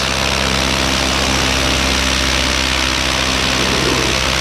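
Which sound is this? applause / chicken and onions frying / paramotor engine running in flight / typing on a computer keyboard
paramotor engine running in flight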